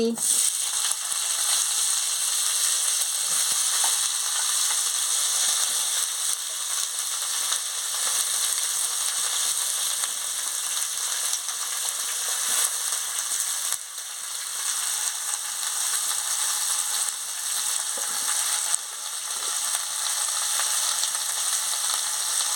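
Vegetables, including bottle gourd stems and eggplant, frying in hot oil in a kadai, a steady loud sizzle running unbroken throughout with faint occasional scraping and no talk.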